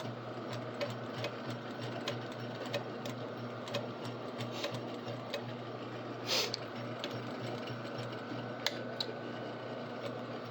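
A sewing machine stitches along a zipper in a steady, continuous mechanical hum with fine rapid ticking, running at an even level throughout with no voices.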